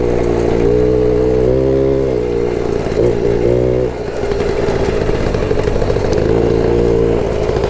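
A small moped rides over stony ground in open countryside, its mid-pitched engine buzzing steadily and close, rising and dipping in revs, with rattling clatter from the rough surface throughout.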